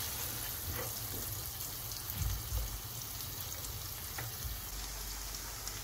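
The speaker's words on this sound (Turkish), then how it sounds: "Soğanımızı ve sarımsağımızı güzelce kavuruyoruz." Chopped onion and garlic sauté in a pan for a vegetable bulgur pilaf, giving a steady, dense sizzle that holds evenly throughout with faint stirring clicks.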